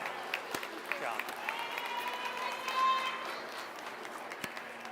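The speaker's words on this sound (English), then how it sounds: "Let's give these exhibitors a big round of applause" An audience at a state fair sheep quality judging show claps for young exhibitors and their ewes, a moderate, fairly distant patter of applause under voices talking.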